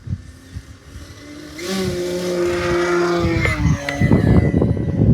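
An E-flite V1200 V2 RC jet on a 6S battery flies past, its electric motor rising to a loud, high scream as it accelerates, with a faint voice in the background.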